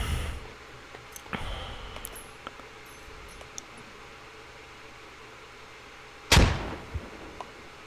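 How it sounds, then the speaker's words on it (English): A grenade explodes in the tactical shooter game Squad, a single sharp loud blast late in the passage after a quieter thump and faint background ambience, with no voices. "Let's throw a grenade."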